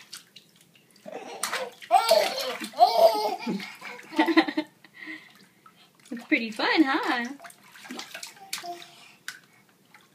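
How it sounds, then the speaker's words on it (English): A young child splashes water in a bathtub, with soft sloshes and drips under the child's chatter and giggles. An adult speaks nearby. "I think you splashed them to the back of the tub."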